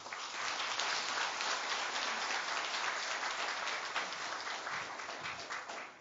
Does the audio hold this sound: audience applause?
yes